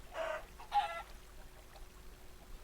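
Chicken clucking in Minecraft, two short blocky cluck sounds close together at the start, then faint quiet background, no talking.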